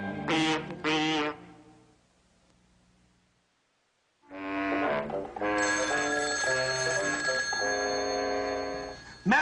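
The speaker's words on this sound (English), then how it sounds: "Master, the phone is ringing." A telephone rings on the set of a comedy horror TV show: two short bursts of bright, bell-like ringing, a brief silence, then a longer, fuller stretch of loud ringing tones.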